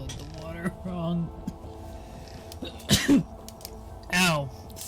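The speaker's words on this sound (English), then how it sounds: "Let me cough really quick." Two short bursts of rough coughing and throat clearing from a person close by, separated by quieter stretches with faint background sounds and some vocal noise.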